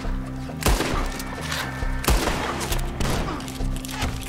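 Gunfire in Red Dead Redemption 2, several sharp loud shots at irregular intervals echoing over a steady music-like background, with sporadic cracks in between.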